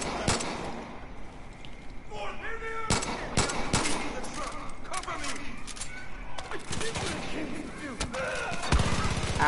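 Pistol fire from the Far Cry 5 video game, several sharp separate shots spaced irregularly across a busy in-game soundscape, with other gunfire and clatter around them.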